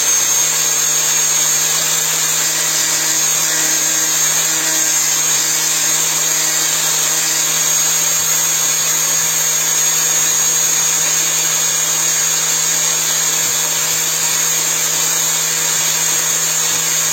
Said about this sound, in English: I might even just use my DA sander and clean it up